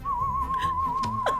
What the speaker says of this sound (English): What's that noise? Oh, it's just me. Whistling.